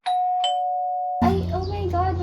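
A doorbell rings with a clear two-tone chime, followed by a voice speaking right after.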